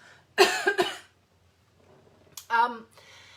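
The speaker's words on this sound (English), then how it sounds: "I'm really going to have to cough again." Two sharp coughs close to the microphone, a quiet pause, then another short cough with a throaty rasp.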